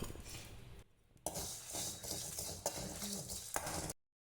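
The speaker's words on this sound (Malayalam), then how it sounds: "പിന്നെ കുറച്ച് പെരിഞ്ജീരകം, കുറച്ച് ജീരകം, പിന്നെ കുറച്ചൊരു 5-6 കായ്മുളക്. ഇതൊക്കെ കൂടെ വറുത്തെടുക്കാം." Fennel seeds, cumin and five or six dried red chillies dry-roast in a pan for Kerala mutton chukka, giving a loud, steady scraping and rattling of stirring that dips briefly and then cuts off abruptly.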